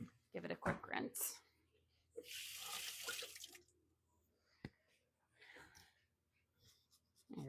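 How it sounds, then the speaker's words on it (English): Tap water runs over a mandarin orange being rinsed at a kitchen sink, a steady hiss of about a second and a half, with short splashes and handling noises around it and a person speaking briefly. "Give it a quick rinse."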